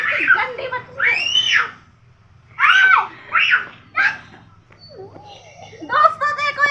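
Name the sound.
young girl screaming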